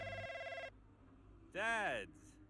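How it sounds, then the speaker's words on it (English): A phone ringtone in the F1 23 racing game's story mode plays as a bright, warbling electronic chirp, sounding once loudly after a steady tone fades. "I think you need a new ringtone, mate."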